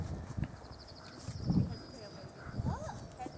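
Horse hooves walk slowly during a riding lesson in St Andrews, Fife, a few soft clip-clops spread over a few seconds, faint and close, with people talking around them.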